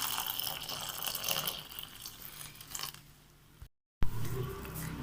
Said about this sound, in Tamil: தண்ணி சேர்த்து பிணைஞ்சு எடுத்துக்கலாம்.